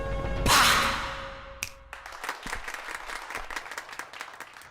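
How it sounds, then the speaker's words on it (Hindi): Audience clapping in a film scene, a loud burst of applause that rises quickly and then settles into steady scattered claps lasting several seconds. "सुसाइड अटैक की बात कर रहा है और वो खुश होकर तालियां बजा रहे हैं।"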